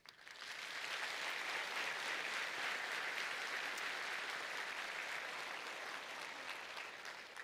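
A large audience at a University of South Africa graduation ceremony in Cape Town applauds the graduates with sustained, even clapping that swells quickly and holds steady, heard from a distance in a big hall.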